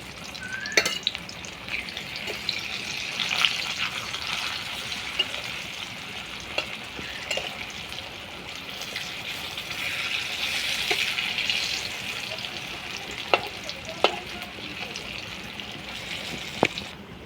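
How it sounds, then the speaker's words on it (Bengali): Raw banana kofta balls fry in hot oil, giving a steady, fairly loud sizzle throughout with occasional sharp pops and spatters, heard alone without talk. "দিয়ে দেব কোপ্তাগুলো ভেজে নেওয়ার জন্য।"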